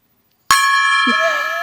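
A gong sound effect hits once, sharp and loud, then rings out in a bright, sustained shimmer, with a brief voice sound rising under the tail.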